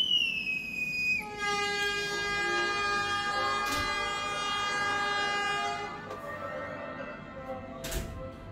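The Fajar Utama Solo train sounds a long, loud horn blast, then departs at Kebumen station, with a faint rolling rumble and a few sharp clanks underneath.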